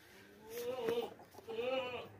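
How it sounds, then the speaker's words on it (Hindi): Heavy sacrificial goat offered for sale, bleating twice in quick succession with wavering, nasal calls, close and fairly loud. "ये बहुत ज़बरदस्त बकरा है, वज़नी बकरा है"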